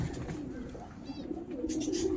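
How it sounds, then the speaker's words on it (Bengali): A female pigeon coos softly and repeatedly at close range, in low throaty pulses over a steady murmur of background noise, with a few faint chirps high above. "এটা মাদা পায়রা আছে, তাই তো?"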